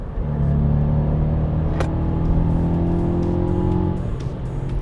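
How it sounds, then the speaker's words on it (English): A Volkswagen up! GTI's three-cylinder engine drones inside the cabin under an artificial bass sound, a steady, loud, low hum with rising tones as it pulls, plus a brief click. "an artificial bass sound is generated inside the cabin, but it barely masks the three-banger noise"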